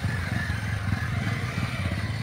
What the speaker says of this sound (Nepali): सेकेन्डवाला मान्छेले कस्तो मजाले अहिले कन्ट्रोल गरिराख्नु भएको छ बाइक।